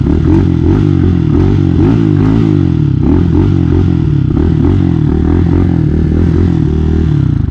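Hawk DLX 250 EFI motorcycle engine running steadily and loud while riding, a continuous low throbbing drone with shifting revs and some rattly clatter, close by with no talk.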